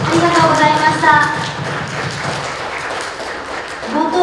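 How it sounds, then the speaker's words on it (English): An audience at the TEAMZ Summit 2025 Web3 security event applauds its speakers, a continuous wash of clapping with a voice talking over it at the start and end. "I would love to ask everybody give a round of applause to our speakers"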